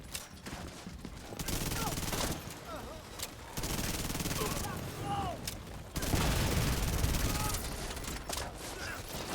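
Rapid bursts of automatic gunfire from a boss fight in The Division 2 on PS4, dense and continuous with brief gaps, layered under game voices and background effects.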